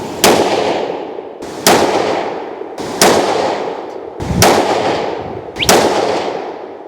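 A Tikka T3x rifle chambered in 22-250 with a 26-inch 1:8 twist barrel fires five sharp, loud shots spaced roughly a second and a half apart, each with a brief decaying echo.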